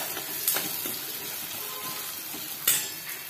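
Turmeric powder and homemade garam masala sautéing with ridge gourd in a pan, a steady close sizzle with a few sharp utensil scrapes and clinks over the top, no talking.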